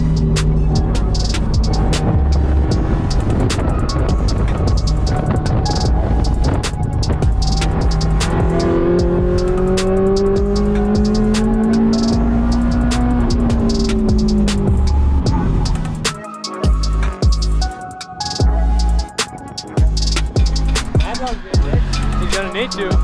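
Subispeed-tuned Subaru WRX lapping a race track, its engine droning steadily and loud with a rising, falling pitch as it revs through the gears, close and continuous, then choppier throttle blips near the end.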